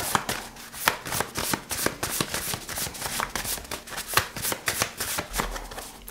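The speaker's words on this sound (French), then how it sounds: "On va tirer une dernière carte du printemps qui s'est installée et qui fait du bien." Tarot cards shuffled rapidly and continuously, dense close crackling riffles and snaps with no talking, as a card is about to be drawn.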